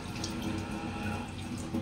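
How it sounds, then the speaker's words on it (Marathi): Water is poured off soaking semolina in a kitchen, a steady close splashing trickle running continuously without talk. "पुन्हा आपल्याला हे पाणी काढून घ्यायचं आहे"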